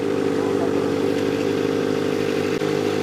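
Kawasaki ZX25R motorcycle fitted with a DX Gen Sphere exhaust, its engine holding a steady high-revving buzz with layered harmonic drone, close and loud, with a brief dip near the end.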